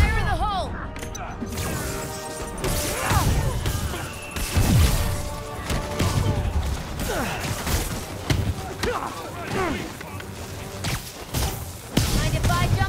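Gameplay of Marvel's Spider-Man Remastered brings loud, dense crashes and thuds from a thrown bomb blast within chaotic fighting, with characters talking over the din and music running underneath.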